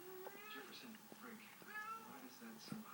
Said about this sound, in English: my cat's helping